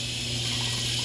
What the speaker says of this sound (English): Let me rinse this pot out.